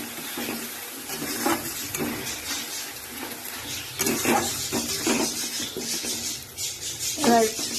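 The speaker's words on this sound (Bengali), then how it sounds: "এবার মশলাটা কষার জন্য অপেক্ষা করি, মশলাটা কষে নিই" Masala spice paste sizzling and frying in a pan for a prawn and jackfruit dish, a steady hiss with stirring scrapes and clinks, loudest near the end, with a voice speaking over it.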